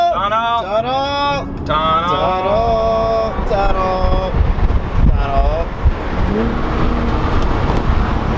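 A car driving through a tunnel gives a steady, loud, enveloping road and engine roar throughout, with people shouting and calling out loudly over it.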